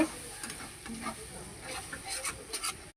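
Spice paste of turmeric, chili, cumin and coriander powder mixed with a little water sizzles in a pan while being stirred, a close steady frying hiss with bursts of scraping spatula strokes.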